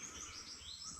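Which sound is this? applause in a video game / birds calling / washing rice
birds calling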